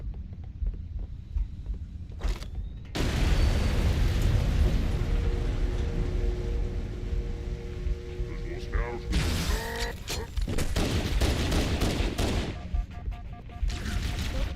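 Grenade blasts and gunfire in Halo CE on the Pillar of Autumn level at Legendary difficulty, a dense, continuous barrage of booms and shots lasting throughout with scattered crackling impacts, while a player talks over it.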